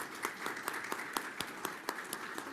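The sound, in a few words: audience applause at a conference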